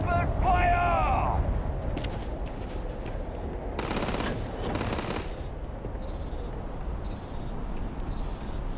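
Gunfire in the video game Starfield: a short rattling automatic burst and a few scattered shots mid-clip over steady ambient hum, with a brief voice-like sound at the start.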